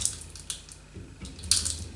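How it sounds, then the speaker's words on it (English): Greased rack sliding on a Cormak ZX 7045 milling machine head during a strip-down, giving soft wet squelching and brief hissy scrapes in short uneven bursts, close up and fairly quiet, with no talk. "that noise is just the grease on the rack."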